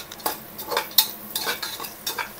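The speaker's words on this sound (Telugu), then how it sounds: "ఆనియన్స్ని బాగా ఫ్రై చేసుకుంటాము." Onions frying in a pan for chicken biryani, with soft sizzling broken by several sharp scrapes and clinks of a spoon stirring against the pan, close by and steady.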